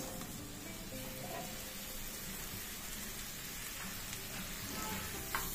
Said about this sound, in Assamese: আগে মছৰুমখিনি মই ভালদৰে ভাজি লওঁ